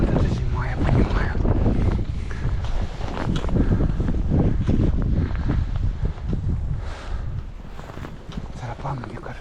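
Strong gusts of winter wind roar across a mountain trail in January, a steady broadband rush buffeting the microphone throughout, with occasional speech under it.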